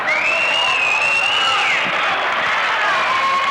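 A high school basketball crowd at Lawrence County High rises in a standing ovation for the senior homecoming queen, a dense, sustained roar of applause and cheering that fills the gym, with a whistle-like tone running through it.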